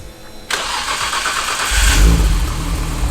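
A Nissan R34 GTR with a titanium exhaust cranks and fires up. The engine catches with a loud burst, then settles into a deep, rumbling idle with a slight swell, close by and alone.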